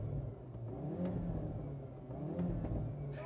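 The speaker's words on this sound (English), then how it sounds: "push this little checkered flag button here, and the exhaust opens up a baffle" A 2021 Hyundai Veloster N DCT engine rumbles and revs with a deep, throaty exhaust note, its exhaust baffle open, rising and falling in a couple of surges close by.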